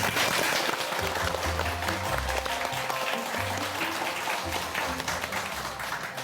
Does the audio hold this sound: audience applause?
yes